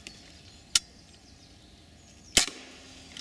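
Air rifle fired at a pest outdoors among foliage: two sharp, isolated cracks about a second and a half apart over a quiet background of faint ambient noise.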